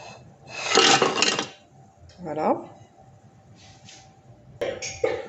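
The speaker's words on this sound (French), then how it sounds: "je vais verser les spéculoos" Speculoos biscuits tipped into a bowl for a light fromage blanc cheesecake base, a dense crunchy rattle of pieces landing for about a second, then a short clink and more scattered clatter near the end.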